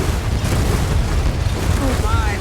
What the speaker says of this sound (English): There's a lot of explosion.